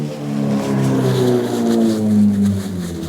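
A motorbike rides past nearby, its engine drone swelling and then easing as the pitch shifts slightly over a few seconds.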